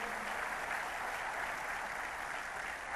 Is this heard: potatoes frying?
no